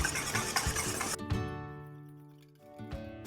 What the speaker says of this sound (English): So we start to stir all of it.